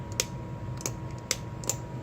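A broken Retrolink joystick with a snapped internal plastic tab gives sharp, isolated clicks when pushed down, four evenly spaced ticks close up over a quiet background.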